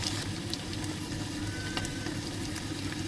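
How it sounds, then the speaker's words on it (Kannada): Green chillies and curry leaves sizzle in hot oil, a steady close crackling hiss running unbroken throughout, with no talking. "ಮೆಣಸಿನ್ಕಾಯಿದ್ದು ಫ್ರೈ ಮಾಡ್ಕೋಬೇಕು"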